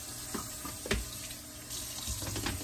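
Kitchen tap water running while a Drinkwell pet fountain tray is washed, a soft steady stream broken by splashes and brief clatters of the tray, close by.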